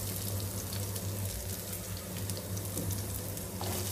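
Onions and cumin seeds frying in oil in a pan give off a steady, continuous sizzle and crackle over a low background hum, with no talking.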